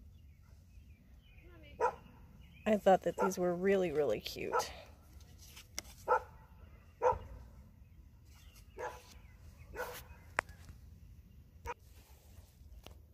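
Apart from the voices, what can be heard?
dog barking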